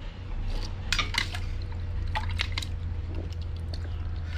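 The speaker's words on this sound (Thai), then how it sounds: "เราก็นํากระชอนนะครับตักมะขามของเราออกนะครับ" Soaked tamarind is lifted out of its soaking water with a strainer, giving soft wet squishes, drips and light sloshes in a few separate bursts over a steady low hum.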